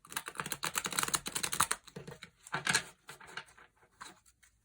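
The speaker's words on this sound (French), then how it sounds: "je vais mélanger les cartes pour procéder au tirage" Tarot cards are shuffled by hand in close, rapid riffling and pattering bursts that fade to lighter taps toward the end, with no talking.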